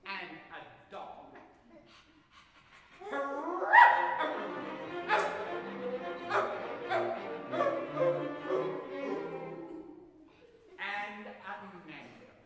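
Orchestral instruments mimic a farm dog's barking in a children's musical story, with a run of bright, yelping phrases rising after a quiet start and a final flurry near the end, mixed with narration.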